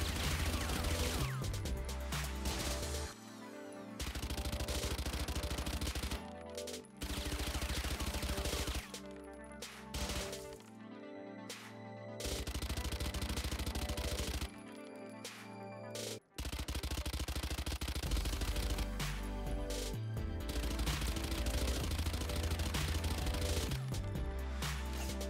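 Spectre automatic weapon in the game Valorant firing sustained close bursts, loud rapid rattling volleys broken by brief pauses between sprays, with no talk.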